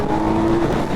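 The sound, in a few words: 2025 Kawasaki Z900 motorcycle engine revving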